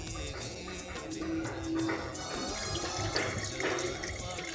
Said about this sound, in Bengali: এবার পানি ভরা শুরু করলো।